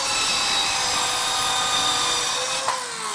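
A hand tool scores relief cuts into wood for a mortise on a mission-style picnic table, giving a steady close rasping grind that runs throughout.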